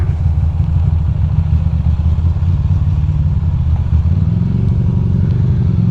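A Ducati motorcycle cruising on the road, its engine a steady, loud, rumbling drone heard from the rider's position, with a slight shift in pitch near the end and no speech.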